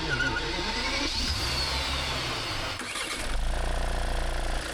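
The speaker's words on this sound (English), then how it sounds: "start the Skoda engine, and we're going to start the Rolls-Royce" Two engines crank and catch one after another, a Skoda 2-litre four-cylinder turbo diesel and a Rolls-Royce, each settling into a steady close idle with no talking.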